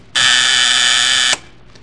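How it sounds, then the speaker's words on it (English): An electric door buzzer in an old radio drama sounds once, a loud harsh continuous buzz held for just over a second before cutting off sharply. "did you just want to see if the buzzer works?"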